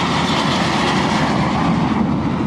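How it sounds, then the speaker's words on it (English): An airplane passes overhead above Mexico City, a loud, steady broadband roar that fills the whole stretch without a break, with no talking. "Wait, the plane."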